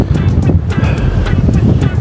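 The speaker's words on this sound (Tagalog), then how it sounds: "Mukhang hindi tayo makakapagpalipad ngayon dahil" Strong wind buffeting the microphone along a seaside baywalk in Zambales, a loud, constant low roar with rumbling gusts and faint surf-like wash, with no voices.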